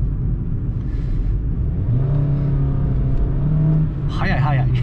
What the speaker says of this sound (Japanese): やっぱ軽量やからですかね、なかなか回るエンジンで